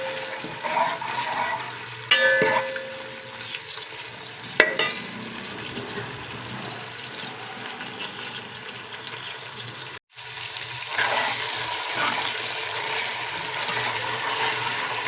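Garlic and ginger frying in a pan with a steady close sizzle, brief stirring knocks, and a sharper hiss as a small splash of water hits the hot oil.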